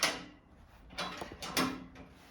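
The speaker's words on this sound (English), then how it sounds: "after you replace the filter, you can close the door." Filter door of a diode laser hair removal machine being handled and shut, a few soft clacks and a sliding click spaced over a couple of seconds, close and fairly quiet with no talking.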